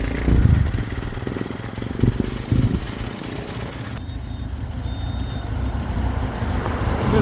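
Yamaha RD 350 LC twin motorcycles pull away at a bike meet, a rough, steady engine drone with a few louder bursts early on, then a continuous roar that holds as they leave.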